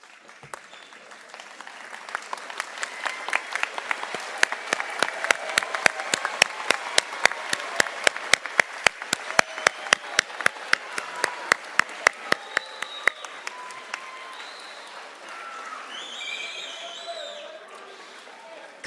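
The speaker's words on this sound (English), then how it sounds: "give them a heartfelt round of applause" A large high school graduation audience stands and applauds its families, a long, full wave of clapping with some louder claps standing out. It swells, holds, and then fades as a few voices and cheers come through near the end.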